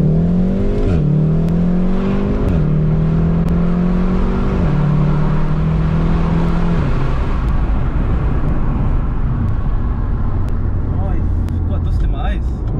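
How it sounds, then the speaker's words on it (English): A Golf's engine, heard loud from inside the car during an aggressive downshift, climbs in pitch in stepped surges with sharp drops between them, then settles into a rough, steady roar. "a downshift like that is very aggressive"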